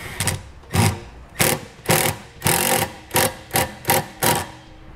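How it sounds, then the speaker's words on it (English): A 5/16 nut driver tightens the clamp bolt on a hitch-mounted wiring bracket for a 2014 Nissan Maxima, giving about eight sharp, evenly spaced ratcheting bursts up close with no talking. "I'm gonna take a 5/16 nut driver and tighten up that bolt until the clamp is nice and secure"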